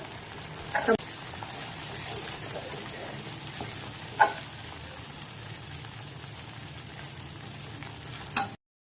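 Paneer masala curry simmers and sizzles in a pan with a steady hiss and a few sharp clinks from stirring, while talk sounds faintly underneath.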